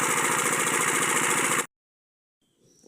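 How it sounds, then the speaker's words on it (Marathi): A farm water pump engine, running but failing to draw water because of a pump fault, idles loudly with a steady mid-pitched drone, then cuts off abruptly into silence before faint noise returns. "आता इथे इंजिन सुरू झालेलं आहे पण यानं पाणी खेचलेलं नाही"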